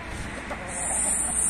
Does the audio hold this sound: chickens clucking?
yes